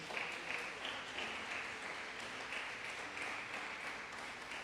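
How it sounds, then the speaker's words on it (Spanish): A church congregation applauds during a live service, a faint, steady wash of clapping heard from a distance that keeps going throughout. "Y no sé si usted le puede dar el aplauso al Señor por eso."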